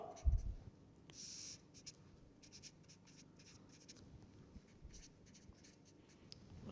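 Pen or marker scratching out diagrams by hand during a lecture on protein unfolding with AFM, a steady run of faint, short strokes and taps close to the microphone, with no talking.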